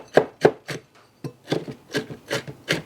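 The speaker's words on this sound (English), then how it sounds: "I purchase the pecan pieces and just chop them up myself" A knife chops pecan pieces on a cutting board in a run of brisk, close, rasping strokes with a brief pause midway.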